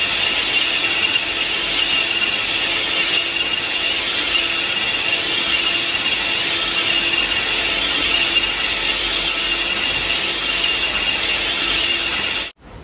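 A boring bar takes a roughing cut inside a bore on a machine tool, with coolant and oil flowing, giving a steady, loud continuous cutting hiss and whine that runs unbroken for over twelve seconds before stopping abruptly.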